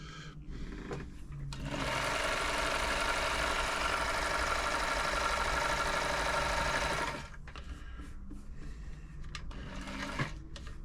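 Elna Supermatic sewing machine running a straight stitch and then zigzag, with a steady mechanical whir and rapid needle clatter. It sounds near and even for about five seconds, preceded and followed by quieter handling noises.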